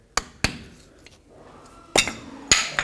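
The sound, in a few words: screwdriver or pry bar driven under axle cap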